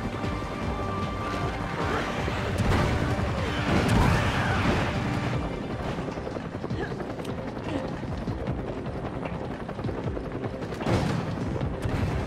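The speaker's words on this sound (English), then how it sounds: "hear gunfire" Rapid gunfire and dense action sounds from the Resident Evil 5 video game fill the scene continuously, loud and layered with a steady din of combat effects throughout.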